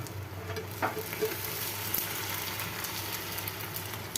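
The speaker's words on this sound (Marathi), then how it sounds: "तर आपण हे शेंगदाणे भाजणार आहोत" Peanuts roasting in a pan on the stove for dal khichdi give a steady, close dry sizzle with faint stirring scrapes that run unbroken throughout, and no voice is heard.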